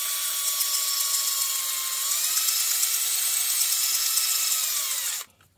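A drill-driven hone spinning inside a seized brake wheel cylinder from a Renault 4x4, a steady high-pitched whine close by whose pitch dips slightly as it works back and forth, then stops abruptly near the end.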